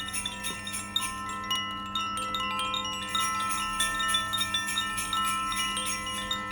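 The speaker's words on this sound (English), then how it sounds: "So it's called the koshi chime, and it's got I think a bamboo outside" A Japanese-style koshi chime made in France, with a bamboo outer tube, rings with soft overlapping metallic tinkles and shimmering tones that linger and blend together, close and alone.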